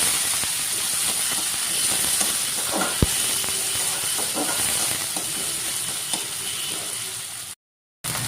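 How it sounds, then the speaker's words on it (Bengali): Spring onion leaves and whole cumin fry in mustard oil for fried rice, a continuous close hiss with faint stirring clicks and one sharp tap of a utensil midway, then a brief silent cut. "পেঁয়াজের পাতাটা আমি ভাজা নিই"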